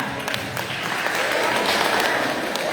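An audience at a school orientation event breaks into dense, loud applause, a steady crackle of many hands that swells slightly and carries on for the whole moment.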